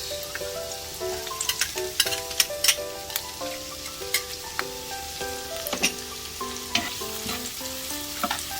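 Onions fry in a pan for pork kare-kare with a steady sizzle, and a spoon stirs and taps against the pan in a run of sharp clicks. Soft background music plays underneath.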